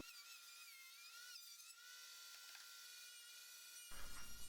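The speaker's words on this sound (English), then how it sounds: "I'm running 1/4 inch dados in all of those parts" Router table cutting quarter-inch dados in reclaimed wood for a buffet, a steady high whining cut that carries throughout, with a louder rumbling surge near the end.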